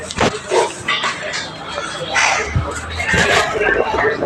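Several dogs bark and yip intermittently nearby while a person talks over them.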